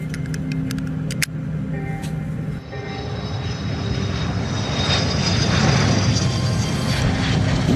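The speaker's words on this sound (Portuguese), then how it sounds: "Imagine estar a bordo de um avião a caminho do destino desejado." A fixed-wing airplane's engine drones steadily, a broad continuous roar that swells slightly louder toward the end, with a sharp click near the start and no speech.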